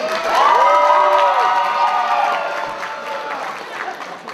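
Audience at a cosplay contest cheers and shouts for a cosplayer, a loud crowd roar with whoops and some applause that swells early and then slowly fades, with voices mixed in.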